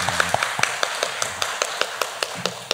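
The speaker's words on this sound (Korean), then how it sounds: "박수로 환영하겠습니다" A small church congregation claps in welcome, a quick, fairly regular patter of separate hand claps, close and moderately loud, with a brief murmur of voices at the start.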